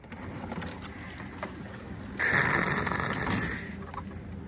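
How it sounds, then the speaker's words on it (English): A paddle pushes a canoe or kayak against a floating log on open water, with steady splashing and sloshing under a constant outdoor background and a louder swirl of water midway through. "I'm gonna paddle this to shore."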